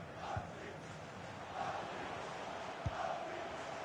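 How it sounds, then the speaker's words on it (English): Stadium crowd in FIFA 21 chanting, a faint, distant roar swelling in waves, with a couple of dull thumps. "I have no idea what this crowd's saying."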